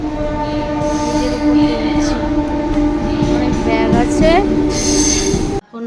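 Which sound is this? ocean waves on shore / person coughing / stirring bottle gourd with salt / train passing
train passing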